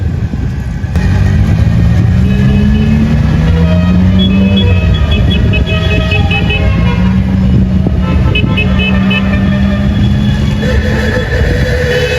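Cars at an outdoor car race or exhibition on a hot day: a steady loud engine drone with horn-like tones and passing vehicle sounds, under a voice talking throughout.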